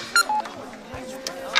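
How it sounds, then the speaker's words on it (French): A mobile phone ringtone of short, bright electronic beeps, heard up close in an indoor scene. "Je suis pas capable de changer la sonnerie, là."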